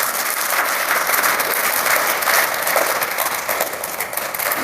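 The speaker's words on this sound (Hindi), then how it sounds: "एक बार तालियां बजाइए जोर से।" Loud, sustained applause from a live audience at a Hindi poetry recital, a dense wash of clapping that stays steady for several seconds with no voices over it.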